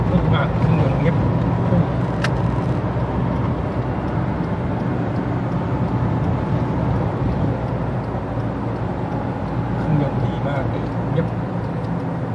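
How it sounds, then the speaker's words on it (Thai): Mitsubishi car engine running while being driven on the road, a low, steady, fairly quiet hum with road and cabin rumble that holds constant throughout; someone talks over it. "โอ้พุ่งมากเครื่องยนต์เงียบ"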